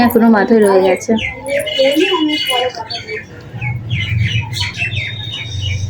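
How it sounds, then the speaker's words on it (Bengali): Birds chirp and twitter outdoors in quick, scattered high calls, partly beneath a person talking nearby in a home setting. "বাইরে কি সুন্দর সব পাখিরা কিচিরমিচির করছে"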